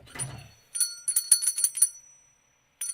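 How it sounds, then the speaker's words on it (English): A small bell rings in a short burst of quick repeated dings, followed by one more strike after a pause. The ringing is close and fairly faint, with a brief low noise at the start. "my bell's all messed up"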